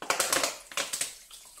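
Raw chicken wings being handled in a bowl of water and vinegar, with a few close, quick wet squelches and splashes in short bursts, no talking.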